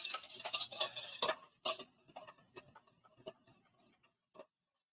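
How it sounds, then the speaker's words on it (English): A whisk clicks rapidly against a bowl while mixing German Dusseldorf-style mustard for fish and chips, a quick rattling flurry at first that slows into scattered, quieter taps. "So we're going to whisk this around."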